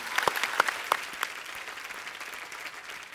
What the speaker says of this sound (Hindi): इनके लिए पहले तो जोरदार तालियां हो जाए।